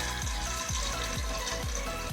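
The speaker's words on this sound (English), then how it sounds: "So we're pouring the water into the jar." Water pours into a jar in a steady, rushing stream with gurgling pulses repeating at regular intervals, close and continuous.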